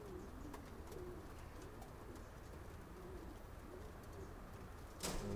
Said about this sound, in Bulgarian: Синия гълъб.